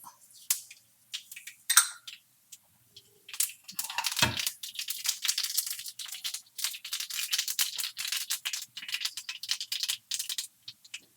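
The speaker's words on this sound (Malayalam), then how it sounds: "കടുക് പൊട്ടി" Mustard seeds with fenugreek crackle in hot oil for a fish curry: a few scattered pops at first, then a busy run of sharp, rattling crackles, fairly faint and close, with no talking.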